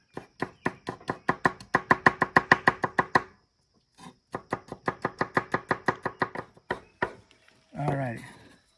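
A knife mincing garlic on a cutting board in a home cooking kitchen, with quick, even rhythmic chops in two long bursts and a few scattered taps, followed by a brief spoken voice at the end.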